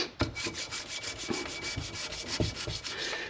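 A Kawasaki Prairie 400 cylinder head surface is hand-polished with steady back-and-forth strokes, a close, even scraping rub repeating in a regular rhythm throughout, with no talking.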